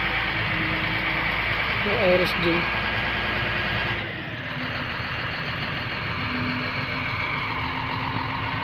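A fiberglass boat's engine drones steadily at close range, a low rumbling hum with a person speaking briefly over it; one of its engines is not running.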